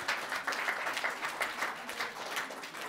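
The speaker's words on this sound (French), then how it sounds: "Monsieur le ministre Olivier Stirn, que je vous demande d'applaudir, qui est là ce soir." An audience at a disability convention applauds a minister in the room, a steady, fairly distant wash of many hands clapping that persists for the full few seconds.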